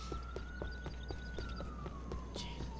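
Emergency sirens wail from ambulances and fire trucks in the GTA IV LCPDFR police mod, a single faint siren tone sliding slowly up and down under rhythmic ticking game noise.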